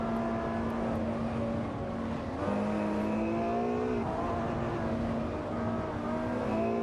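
Peugeot 207 GTI and Infiniti Q50 battling through Eau Rouge in a racing video game, engine whines with shifting, rising pitches at a low level, a gear-change drop partway through, no voices.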